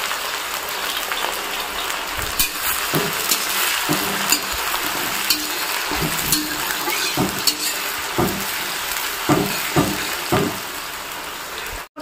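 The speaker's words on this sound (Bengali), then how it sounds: "আর এবারে তেলের মধ্যে গোটা গরম মশলা দিয়ে দেবো।" Whole garam masala frying in hot oil for mutton kosha, a steady close sizzle broken by repeated scraping stirs throughout, with no voices.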